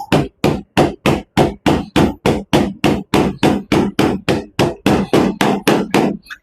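A Sig Sauer P320 pistol banged repeatedly on a countertop, giving about twenty sharp, loud knocks in a fast, steady rhythm, close up and with no voices.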